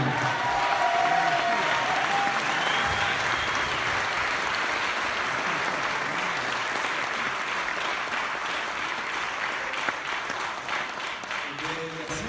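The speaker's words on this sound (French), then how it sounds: "on va l'applaudir très très fort, Enzo Wine." Sustained audience applause for a rising magician at a magic show awards ceremony, a dense, even wash of clapping from a large crowd lasting throughout, with no talk.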